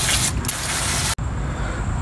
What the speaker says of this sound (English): I'm going to go ahead and spray down everything here, get all this dust